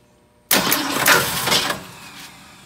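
A 1968 Ford Falcon engine with ignition problems cranks and catches abruptly after half a second of quiet, then settles into a loud, rough running rumble that eases slightly over the next two seconds.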